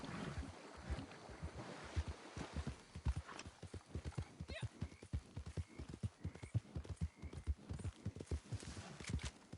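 In a video game, a horse clip-clops along at a brisk, regular pace, with an occasional whinny and faint wind behind it. The hoofbeats stay close and dominate.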